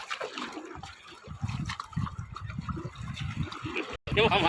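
River water near Hogenakkal Falls rushes and churns steadily around a coracle, a continuous close wash of flowing water with faint voices in the background.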